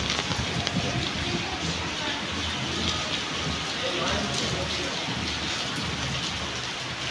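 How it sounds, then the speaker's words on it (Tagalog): Heavy, steady downpour drumming on surfaces outdoors, loud and continuous from start to finish with dense broadband hiss and patter; voices of people nearby are mixed in faintly. "Sobrang lakas ng ulan"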